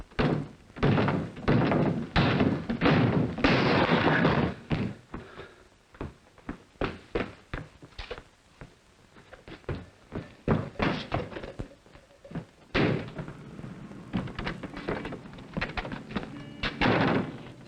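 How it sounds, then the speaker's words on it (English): A door is kicked down with a rapid string of loud, hard thuds and slams, blows coming in irregular bursts, some heavy and close, others lighter, spread across the whole stretch. "I could kick the door down."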